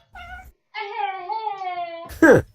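Cartoon cat in the adventure game Chaos of Deponia gives a short meow, then a long drawn-out wailing meow, ending in a harsh hiss-like burst, loud and close with no talk.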